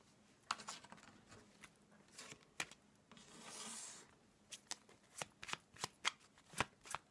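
Tarot cards are shuffled and drawn during a reading: quiet, crisp riffles and sharp card snaps arrive in irregular bursts, with one longer sustained shuffle midway.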